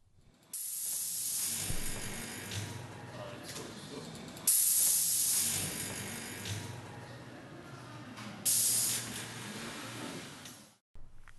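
Festo pneumatic muscles on a humanoid robot hiss loudly with compressed air, a sustained broadband rush that surges in several bursts and then cuts off abruptly, heard up close with no talking.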